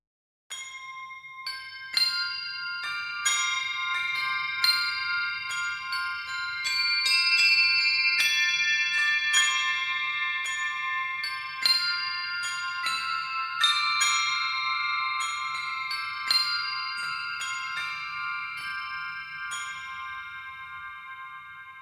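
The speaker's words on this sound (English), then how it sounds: "Now this Crotales ensemble is very cool." A crotales ensemble from the EastWest Hollywood Fantasy Percussion library rings out in bright, high bell-like strikes, one after another with long shimmering sustains that overlap, heard alone.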